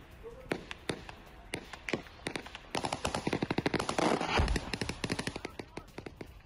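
Rapid bursts of gunfire and heavier artillery-like blasts on a war front in Luhansk, Ukraine, cracking in dense, irregular volleys that build into a sustained fusillade near the middle before thinning out.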